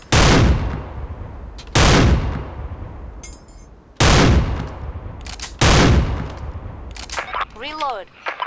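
Four loud, heavy Barrett sniper rifle shots ring out from a first-person shooter game, fired without scoping and spaced about two seconds apart, each trailing a long booming decay, with a faint gliding electronic tone near the end.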